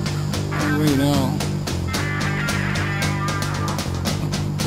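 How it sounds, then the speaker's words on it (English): Birds squawk and honk excitedly at night, agitated by a DIY graphite X450 quadcopter flying overhead; a steady motor hum runs underneath the loud, overlapping calls. "Birds are freaking out."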